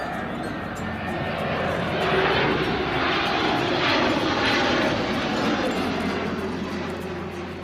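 A toy shark-shaped airplane gives off a continuous aircraft-engine roar that swells to a peak midway and then eases back slightly, heard close up.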